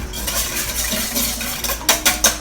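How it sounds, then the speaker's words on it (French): Eggs cracked against a bowl in a home kitchen while making banana, zucchini and walnut bread, with two or three sharp cracking taps near the end after soft handling noises. "On va briser nos œufs."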